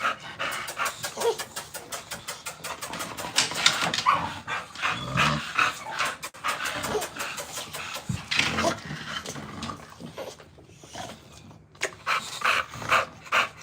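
Micro bully dogs panting close by, fast rhythmic huffing breaths in steady bursts with occasional small whimpers and snuffles, loud and continuous with no speech.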